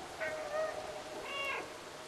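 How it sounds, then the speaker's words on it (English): Two soft meows from a cat in the video game Stray, one brief and one slightly longer, heard faintly over a quiet background. "Get my meow on."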